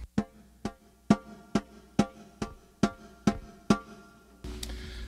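Bottom skin of a snare drum, struck about nine times in a steady, fairly quick rhythm, each crisp ringing hit fading quickly, then a soft low rumble closes the passage.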